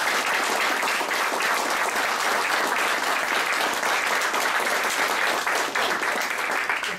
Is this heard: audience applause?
yes